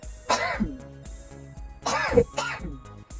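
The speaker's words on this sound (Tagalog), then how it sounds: "Sige nga, umubo ka nga." Three harsh coughs ring out close up, one on its own and then a quick pair, over a low steady hum.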